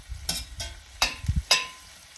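Mushrooms, a little over a cup, sautéing in a pan for beef stroganoff, with several separate scraping and tossing bursts spaced across a soft sizzle, close and without speech.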